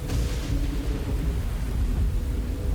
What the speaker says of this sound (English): we're on top of the tower, and it's raining.